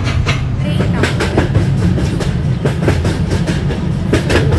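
Vande Bharat Express rolling through Indian Train Simulator with steady, loud rail rumble and rhythmic clickety-clack of wheels over joints, continuous throughout.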